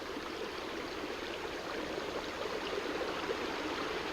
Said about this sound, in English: Lots of new creeks here that used to not be here.